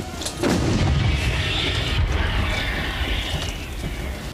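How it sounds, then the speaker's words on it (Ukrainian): An American M777 howitzer fires near Kurakhove, giving a single heavy boom that is followed by a long rumbling roar and echo rolling across open ground. "Гармата! Постріл!"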